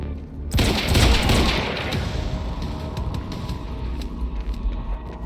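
Gunfire in Quantum Break opens with a loud, sudden volley of overlapping shots and booms, then settles into a rattling, crackling exchange that fades slightly but keeps going.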